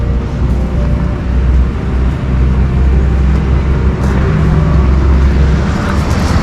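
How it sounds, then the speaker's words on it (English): Steady road traffic on National Highway 65 outside Pune, a continuous low roar of passing vehicles with occasional swells as cars and heavier vehicles go by. "We are currently on National Highway 65"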